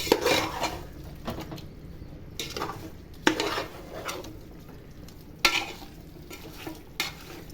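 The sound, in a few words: sautéing onions and spices in oil for biryani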